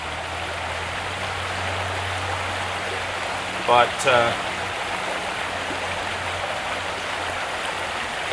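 A river stream flows with a steady, even rushing hiss while someone is fishing with a small kit, and a brief spoken word breaks in midway.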